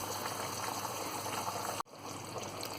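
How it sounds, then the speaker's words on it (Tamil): Nagercoil-style dark fish curry boiling in a pot on the stove, a steady close bubbling hiss and simmer that dips briefly for a moment before carrying on. "குழம்பு நல்லா கொதிச்சிட்ருக்கு."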